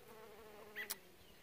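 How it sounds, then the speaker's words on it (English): Bees foraging on white clover flowers in a lawn make a faint buzzing hum, with one insect briefly passing close to the microphone near the end. "You can see they're working these flowers nonstop."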